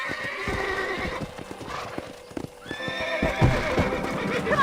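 Horses neigh and whinny over a steady clip-clop of hooves in the Red Dead Redemption Western game, with several animals close by and loud, one long whinny rising midway.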